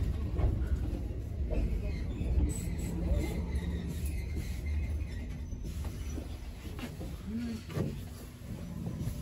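A Choshi Electric Railway train, one of the line's faulty sets, rolls into Tokawa terminus, with a continuous low rumble of wheels and motors, brief wheel squeal and a quiet cabin; someone talks softly over it.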